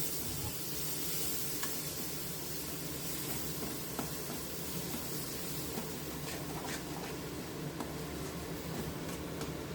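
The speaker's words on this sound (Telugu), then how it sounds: "ఇప్పుడు చిన్నగా చాప్ చేసుకున్న టమాటోస్ని సాఫ్ట్ అయ్యే వరకు కుక్ చేసుకో" Finely chopped tomatoes sizzling in a pan while cooking for a dhaba-style paneer butter masala: a steady, soft, continuous hiss and crackle with a few faint stirring clicks, close and even throughout.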